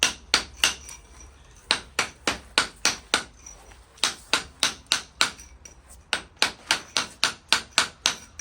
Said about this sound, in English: chipping up all of the spare cement that was on the floor just to get a nice flat finish